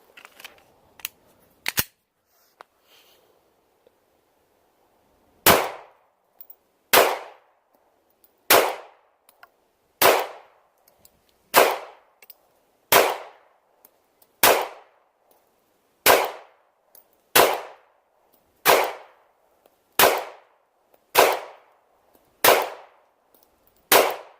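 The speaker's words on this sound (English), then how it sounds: "now I'm going to be shooting the factory mags that came with it" Glock 19 Gen 5 pistol shots fired from factory magazines at a range, about fifteen sharp cracks, a few scattered at first and then a steady, evenly spaced string, loud and close.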